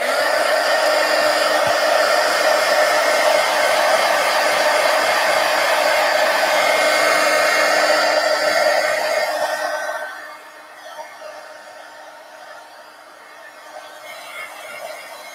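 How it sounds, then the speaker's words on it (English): A heat gun blows a steady, loud roar of hot air onto an altered book page for about ten seconds, then cuts off, leaving quieter room sound. "let me hit it with the heat gun again"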